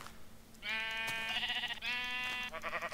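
Sheep in the video game Minecraft bleat in two long, loud, clear calls, the second following a brief pause, with a quick shorter bleat at the end.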